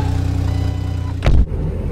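A car drives along the road, its engine and tyre rumble a steady, fairly loud drone with a brief heavier thump partway through.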